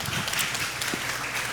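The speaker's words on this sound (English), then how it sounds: "Round of applause for that, please." Audience applause at a food and health policy panel event, a brief steady wash of clapping from a crowd lasting about a second and a half.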